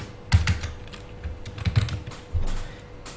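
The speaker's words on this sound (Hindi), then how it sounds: "तो टाइप करते हैं यहाँ पे अल्टीमेट मेंबर।" Computer keyboard keys tapped to type a plugin name, a few quick clusters of close, soft clicks with short pauses between them.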